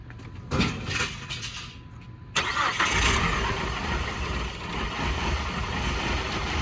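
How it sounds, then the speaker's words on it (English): A 2002 PT Cruiser that has sat for nine years cranks and catches, its engine roaring to life after a quiet start with a brief earlier burst, then settling into a steady, loud running rumble. "We were getting ready to start this car after 9 years of being flatlined."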